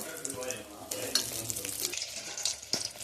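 Urad dal frying in hot oil in a kadai, a steady soft sizzle with stirring clicks and scrapes, close and fairly quiet.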